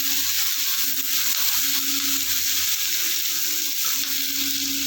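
Taro stolons frying with hilsa fish head in hot oil, a steady, bright, close sizzle that stays even throughout with no talking.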